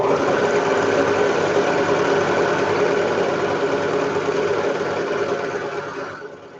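A loud sewing machine runs steadily while stitching a seam on a girl's elastic waist skirt, a dense whirring drone that holds for about six seconds, then slows and fades near the end.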